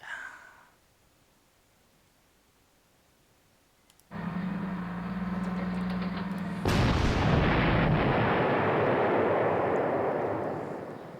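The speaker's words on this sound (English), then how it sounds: "my anti-tank gun will continue to deal out devastation." Anti-tank gun fire in the WWII strategy game Panzer Corps: after a near-silent stretch a heavy blast and low rumble break in, followed by a second, louder booming burst that rolls on loudly to the end.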